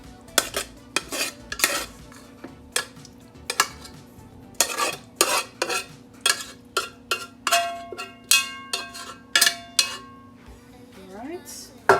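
Cooked macaroni goes into a casserole dish and is mixed with a metal spoon, giving a series of sharp clinks and scrapes against the dish at an uneven rhythm, close up, with a voice speaking in the background.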